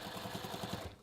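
Sewing machine running a line of topstitching about a quarter inch from the edge, with a guide on the presser foot; a steady rapid pulsing whir, close and fairly loud, stopping just before the end.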